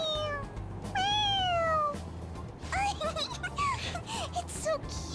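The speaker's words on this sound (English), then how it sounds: "It meows when you press on its head." A stuffed toy cat in Persona 5 Royal gives several bright, synthetic meows when pressed on the head, a couple of long ones and then quick short ones, over a low background hum.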